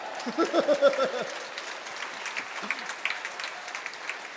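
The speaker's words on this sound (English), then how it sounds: "you can clap." A graduation audience at Norwich University of the Arts claps, a soft, distant patter of applause in a large hall, with a brief voice near the start.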